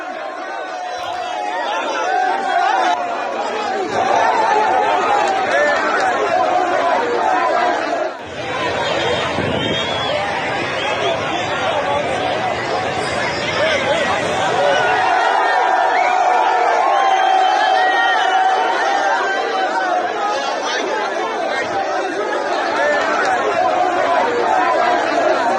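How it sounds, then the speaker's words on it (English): A large crowd of hardship protesters blocking a roundabout in Nigeria fills the air with loud, continuous chatter and shouting, occasional whoops and cheers rising from the dense hubbub. "Look at that large crowd."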